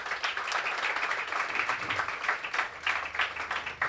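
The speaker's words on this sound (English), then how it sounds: "So let's give both of them a round of applause." Audience at a leadership breakfast applauding, a dense, even patter of many hands clapping at moderate distance, sustained for several seconds.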